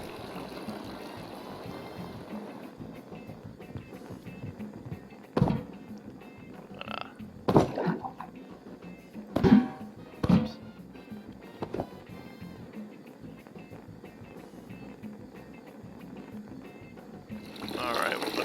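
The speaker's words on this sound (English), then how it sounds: "we're going to dump out our excess water" Excess water dumped out of a home-brewing pot, a low running and splashing pour with several sharp knocks and clanks of the pot scattered through it, moderately close.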